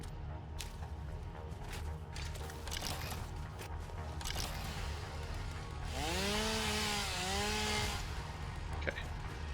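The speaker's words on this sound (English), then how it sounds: "Oh, got another thing we need to chainsaw," Chainsaw cutting in the video game Satisfactory, a steady buzzing whine that rises into a louder revving pitch midway, heard amid game background noise with a voice talking faintly over it.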